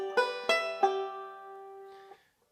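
Banjo picks the opening measure of the B part of the fiddle tune Sally Goodin: three crisp plucked notes in quick succession ring out and sustain, then a soft final touch before silence, played alone and close.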